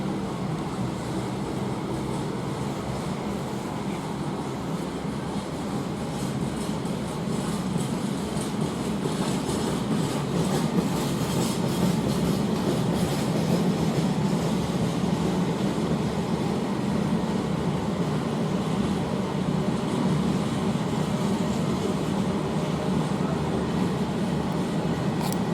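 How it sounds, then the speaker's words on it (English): A very long freight train passes at Rugby on the West Coast Main Line, a steady, loud rumble of wagons rolling by for the whole stretch, with faint rhythmic clatter and no talk. "it's a long freight train. Very long."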